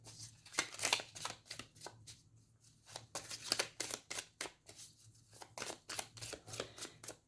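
Oracle cards are shuffled by hand close up in a quick series of riffling flutters and soft slaps with short pauses between bursts, and no one speaks.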